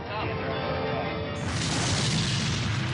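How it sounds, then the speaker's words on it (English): A passenger jet's number 2 engine exploding in flight, heard as a loud, sustained booming roar with dense low rumble, a sudden surge in intensity midway, and no clear pause. "There were two loud noises. Boom, boom. His number 2 engine was exploding into pieces."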